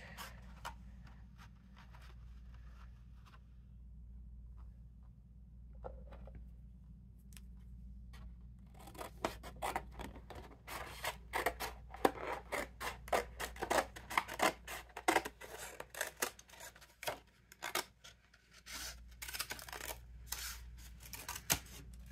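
Scissors snip paper while gift tags are being made, a long quiet stretch giving way to a dense run of sharp, close clicks and rustles against a low steady hum.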